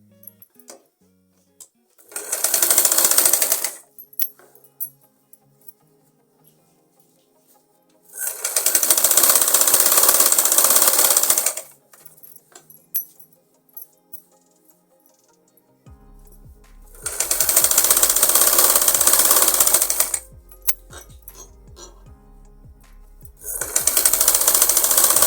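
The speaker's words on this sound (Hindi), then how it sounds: "यहाँ से हम सिलाई लगाएंगे।" A sewing machine stitches a strip onto a girl's umbrella frock in four loud bursts of rapid needle clatter, each lasting a couple of seconds, separated by quiet pauses with small handling clicks.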